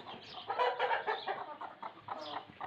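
A hen and a rooster cluck close by, a string of short throaty clucks and chatter from the poultry with quiet yard ambience beneath.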